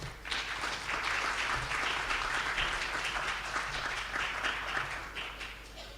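Seminar attendees at an international conference on low-carbon affordable housing clap together, a sustained even round of applause heard from within the hall that tapers slightly at the end.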